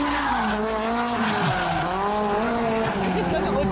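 Car drifting at Ebisu Circuit in Japan, engine droning with shifting pitch and tires squealing steadily throughout, loud and close, with a voice talking over it.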